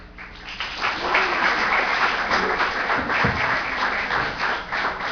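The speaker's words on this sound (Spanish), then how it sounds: "Un aplauso porque todo el mundo está de acuerdo." Meeting attendees give a sustained round of applause after agreeing on a proposal, a thick, continuous patter of many hands at moderate loudness.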